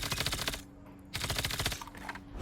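Rapid bursts of automatic fire in a mobile shooter game, fired while scoped in, with dense rattling volleys, a short pause, then more sustained firing and a tapering final burst.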